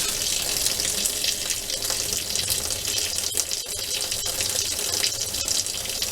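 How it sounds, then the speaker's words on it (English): Hot water running steadily from a faucet fed by a Vevor 8 kW tankless water heater, a loud, continuous close-up splashing stream with no talking. "it's coming out of the faucet pretty hot"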